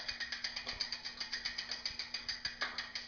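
A torque wrench ratchets quickly and evenly while bicycle crank bolts on a SRAM crank are tightened, a close run of about fifteen crisp clicks with no talk.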